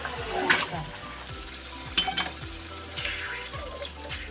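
Mutton with garam masala frying in a pan: a steady sizzle runs under repeated scraping and clinking stirs, with faint background noise and a low hum.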